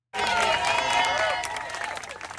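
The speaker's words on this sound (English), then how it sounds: "more than a clapping out for departing colleagues" Crowd outside the U.S. Centers for Disease Control applauding departing colleagues, a dense burst of clapping with scattered cheers that starts abruptly, stays loud, then eases slightly.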